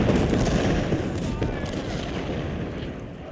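Artillery fire from 24-pound howitzers and 12-pound Napoleon cannons in the Civil War strategy game Ultimate General, heard as a dense, continuous rumble of booming volleys that stays loud throughout, with no clear gaps between shots.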